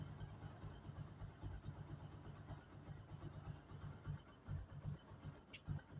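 A Bajaj Boxer motorcycle engine runs after a remote start from its alarm system, a quiet, uneven low chugging idle with irregular pulses, heard from a short distance without talk.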